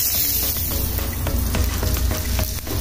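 Butter or margarine sizzles loudly on a hot sisig plate for crispy tofu and mushroom sisig, with a close, continuous crackling hiss and scattered sharp pops throughout.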